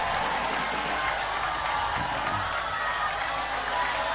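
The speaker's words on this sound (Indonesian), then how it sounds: "Nah, iki sing tepuk tangan iki mesti melarat ora kebagian iki." Applause and cheering from a crowd during a village-head discussion with a religious speaker about aid distribution, a continuous loud wash of clapping with some whoops mixed in.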